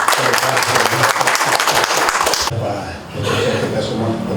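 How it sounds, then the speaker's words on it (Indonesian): Loud, dense applause from a crowd at a political party meeting in West Papua, filling the room for a couple of seconds before dropping sharply to a quieter spread of scattered clapping and murmuring. "Mari kita tepuk tangan Pak."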